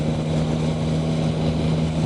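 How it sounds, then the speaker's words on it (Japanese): A Yamaha Tracer 9 GT three-cylinder motorcycle engine drones steadily while riding, a loud, continuous hum with a strong low tonal note and wind rush, no speech. "やっぱりのぶとい素晴らしい音するし、回した時の音も素晴らしいし"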